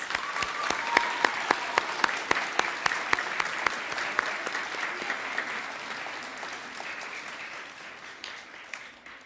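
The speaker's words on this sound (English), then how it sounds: "Let's give them all a big round of applause." Audience applause at a Kid Governor announcement ceremony in Connecticut: steady, dense clapping from many hands that carries on alone for the whole stretch, slowly tapering in loudness toward the end.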